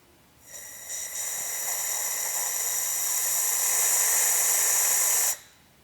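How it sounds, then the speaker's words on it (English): A pressure pot holding epoxy resin being degassed: a loud, steady hiss of escaping air that starts abruptly, holds for about five seconds and cuts off sharply. "let's degas this pressure pot and see what we're cooking with"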